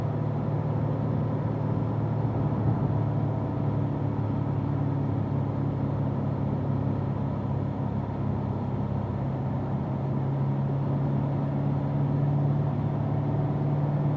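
Race car lapping a wet track during a driving school session, a steady mid-pitched engine drone held at a constant level from inside the car, fairly quiet and unbroken with no talk.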